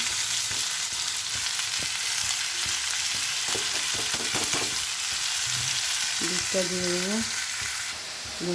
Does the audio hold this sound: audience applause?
no